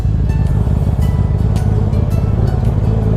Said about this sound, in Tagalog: Iba pa rin ang tunog ng Acra talaga guys.